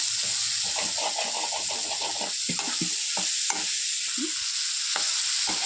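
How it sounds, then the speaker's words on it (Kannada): Beans and carrots sizzle in a hot pan while a spoon stirs them, with steady bright frying hiss throughout and repeated close scraping strokes in an uneven rhythm, no talking. "ಇದನ್ನು ಒಂದು ಫ್ಯೂ ಮಿನಿಟ್ಸ್ ಹೀಗೆ ಫ್ರೈ ಮಾಡ್ಕೊಳ್ಳಿ ಬೇಯೋವರೆಗೆ"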